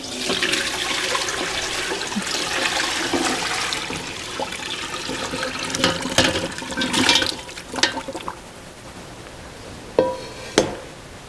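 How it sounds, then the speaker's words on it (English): Chicken bone broth pours from a very heavy pan through a colander, a rushing, splashing stream of liquid that gradually tapers off, ending with a couple of clanks of metal. "I have a pan here and a colander that I'm just going to strain it through"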